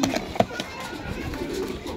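A racing homing pigeon gives soft low coos close by, with a couple of brief clicks and quiet background noise.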